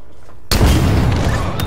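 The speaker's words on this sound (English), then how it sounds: "Explosions." A deep, loud boom from a video game explosion hits suddenly after a brief quiet moment, followed by a rumbling, crackling tail with a short sharp pop near the end.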